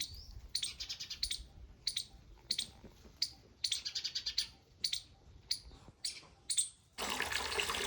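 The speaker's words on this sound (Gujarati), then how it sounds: "ચકલી અને ખિસકોલી બોલે જોયું." Sparrows chirp in short, rapid bursts of bright tweets, repeated every second or so near the mic, with quiet outdoor background and running water rushing in at the end.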